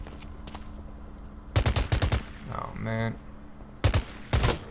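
Sniper and automatic gunfire crackle in the shooter video game Blacklight: Retribution, coming in loud clustered bursts with a brief electronic whine between them, while someone says a word.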